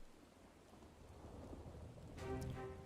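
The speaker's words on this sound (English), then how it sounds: "Because it's raining." Rain in the video game Final Fantasy XIV, a soft, distant patter with a low rumble that swells briefly near the end, heard faintly.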